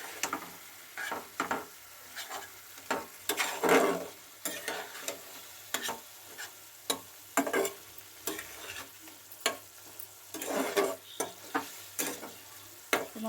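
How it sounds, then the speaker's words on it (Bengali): Minced meat frying with turmeric, coriander and cumin powder, stirred in a pan with repeated scraping strokes in an uneven rhythm over a continuous close sizzle. "মশলার সঙ্গে আমি কিমাটা নেড়ে চেড়ে নিলাম"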